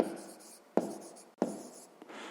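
Pen or marker writing by hand on a surface during a sixth-grade maths lesson: steady close scratching strokes with two sharp taps where the tip lands, no speech over it.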